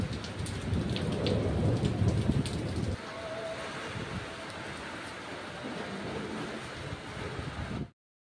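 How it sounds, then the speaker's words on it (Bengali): Heavy evening rain pours down on the day of a colour festival, a loud dense hiss with low rumbling thunder through the first seconds, then steady rain alone before it cuts off. "সন্ধ্যাবেলায় খুব বৃষ্টি হয়েছে, সেই বৃষ্টির একটু ভিডিও তুলেছি"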